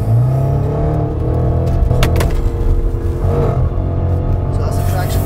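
A Range Rover Sport SVR accelerates hard through a roundabout, its engine note steady and strong inside the cabin, with brief tyre and road noise under a driver's talk.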